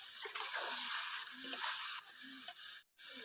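Tomato paste and turmeric masala fry in a pan while being stirred, giving a steady close sizzle with soft scraping strokes repeating about once a second, and a brief gap near the end.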